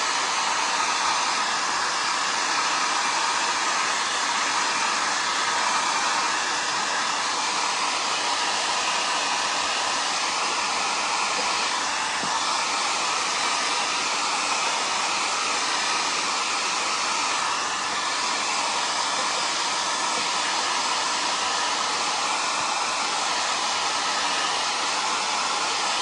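A hair dryer runs continuously at close range, a steady loud rushing whoosh of air drying paint on a smashed can, with no talking over it.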